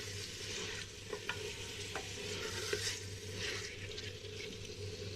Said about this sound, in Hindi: बड़ी हांडी लेने का यही मकसद था कि इसमें हमारा गोश्त आसानी से हिल सके और गोश्त भी खुश खुश अंदर पके